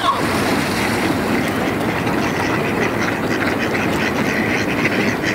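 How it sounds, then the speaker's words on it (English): Several ducks of different kinds quack in a busy chorus on the water at Cazenovia Park, South Buffalo, over a constant outdoor rumble, calls overlapping at close to moderate distance. "Look at all the different ducks."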